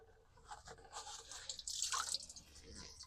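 A sun hoodie is dunked in homemade bug spray, giving soft sloshing and dripping sounds close by with a few brighter splashes midway. Nobody talks.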